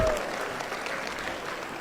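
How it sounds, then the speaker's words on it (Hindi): Applause rolls through the crowd at a Parshuram Jayanti ceremony attended by the Madhya Pradesh chief minister, a dense sustained clapping that stays loud and close with no voices over it. "ये तो मांग लो तालियों की गड़गड़ाहट से"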